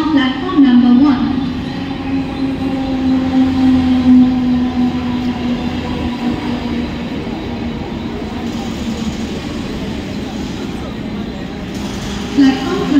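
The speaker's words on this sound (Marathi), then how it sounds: "No local for Thane is arriving shortly on platform number 1." A Mumbai local train arriving at a railway station platform makes a steady, loud rumble throughout, with a public-address announcement voice running over it.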